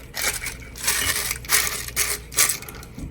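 A blade cuts around the inside topper of a gratitude jar, making several rough, crunchy rasping bursts in an uneven rhythm, close and moderately loud, with no talking.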